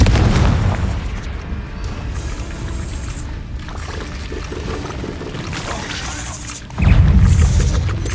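A Confringo blast spell in Hogwarts Legacy erupts as a heavy booming explosion with a rumbling, crackling tail, followed by a second loud burst near the end.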